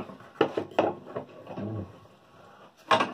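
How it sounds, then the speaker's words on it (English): Mallet strikes a chisel set into wood along the grain, splitting the fibres: several sharp knocks near 0.4, 0.8 and 3.0 seconds with rubbing and creaking wood between them, close and moderately loud. "Take the same chisel, same mallet, but now I'm going with the grain of the wood."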